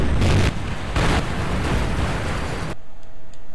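Jettisoned rocket parts exploding in a video game, a series of loud booming blasts in quick succession that cut off abruptly into near silence.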